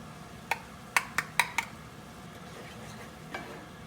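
A utensil scrapes and taps against a paella pan as paprika is stirred into a reduced, thickened base, a few sharp clinks over a faint sizzle.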